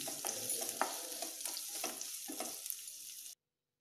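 Chopped onion hits hot oil in a kadai and fries with a close, steady crackling sizzle punctuated by scraping stirs, with no talk, ending abruptly.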